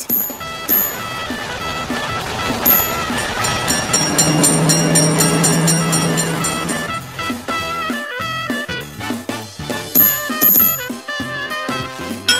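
A train rumbles past with a swelling roar that fades in the mobile game Railroad Crossing, then clattering rhythmic beats and music take over.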